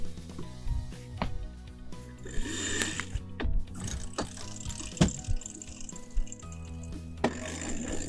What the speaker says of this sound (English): I can start trimming the main sheet on